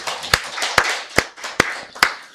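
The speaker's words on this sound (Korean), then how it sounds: "우리 박수를 하나님께 영광 돌리겠습니다" A church congregation claps in a slow, regular beat during a Wednesday worship service, five sharp, loud unison claps roughly every half second with a soft murmur of voices between them.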